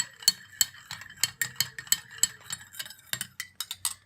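Coconut cream mixture with oil and a few drops of vitamin E oil being stirred in a bowl, a quick irregular series of light clinks and taps, close and fairly quiet with no voices.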